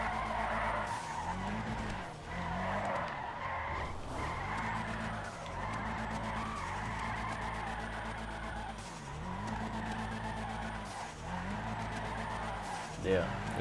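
A Nissan Skyline in the video game GTA makes a steady engine drone with turbo whine and repeated tire skids. The car noise runs continuously at moderate level with a few brief dips.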